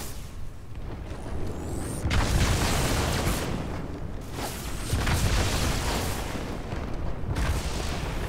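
Plasma grenades in Halo 2: Anniversary go off in a battle, giving several heavy booming blasts a few seconds apart over a steady rumble of combat noise.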